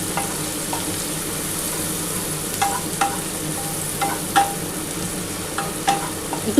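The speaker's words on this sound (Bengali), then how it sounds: "পেঁয়াজটা ভেজে দিলাম" Onions sizzle steadily in hot oil in a pan while being fried for a Bengali prawn malai curry, with a spoon scraping and clinking against the pan every so often during stirring, close up and with no talking.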